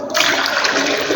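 Water gushes steadily into a washing machine tub, a loud, continuous rushing pour that starts abruptly and fills the whole clip.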